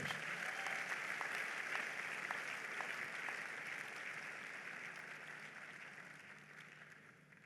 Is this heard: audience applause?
yes